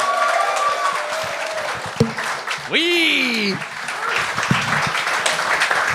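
Audience applause for Moose Felinhi on the Gong Show, a broad clapping wash under a shouted cheer and a host's voice, with a rising whistle-like tone cutting through midway.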